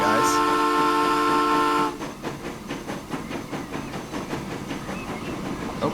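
A new steam locomotive in the video game Transport Fever sounds a long, loud whistle, then settles into a steady rhythmic chuffing as it moves, with someone briefly speaking over it.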